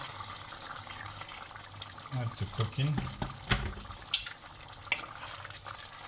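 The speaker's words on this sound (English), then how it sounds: "just top it up with a little bit of water" Water splashes and trickles into a pot of lamb curry in uneven bursts, close by, while a person talks briefly over it.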